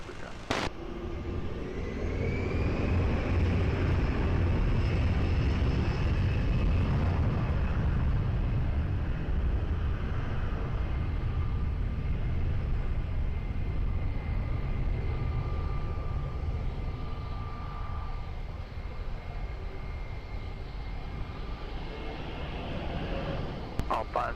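Airliner taking off from runway 20 at Lisbon Airport, a steady distant jet roar that swells and holds throughout, with radio chatter from air traffic control heard over it.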